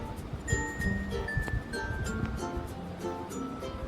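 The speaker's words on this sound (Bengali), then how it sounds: "একটা পাত্রে সামান্য জল নিয়ে ওর মধ্যে 2 চামচ চিনি, 2 চামচ নুন মিশিয়ে" Salt and sugar stirred into water in a bowl, a spoon clinking lightly and repeatedly against the side at close range, soft and faint.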